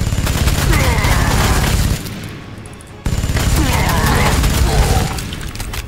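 Two bursts of rapid gunfire from units in Warhammer 40,000: Sanctus Reach, each a loud crackling volley lasting about two seconds, separated by a brief lull.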